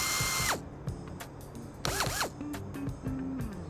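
A power drill bores a hole near the top of a plastic rain barrel, with bursts of whining motor and grinding, pitch rising and falling between short pauses.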